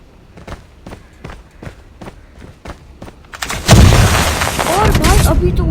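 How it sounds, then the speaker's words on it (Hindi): A thermite grenade goes off in Call of Duty after a run of quick in-game footsteps and thumps, bursting into a loud, crackling, sizzling roar that keeps burning to the end. "उसने मेरे हेड पे ही भाई सीधा थर्माइट लगा दिया"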